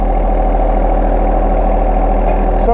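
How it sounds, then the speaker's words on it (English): A tractor engine idles steadily and loud at close range as the machine is lined up beside a high tunnel, a continuous low rumble with no voices over it. "Get this side of the tractor over here, left side of the tractor lined up with the center of the high tunnel."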